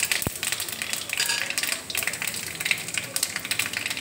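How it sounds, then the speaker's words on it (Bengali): Whole cumin, fennel and nigella seeds sizzling in a hot pan, a steady crackling hiss with a sharp tap near the start and faint clinks, with no talking. "এবার দেখো গোটা জিরে দিয়ে দিচ্ছি, মৌরি দেখো দিয়ে দিচ্ছি"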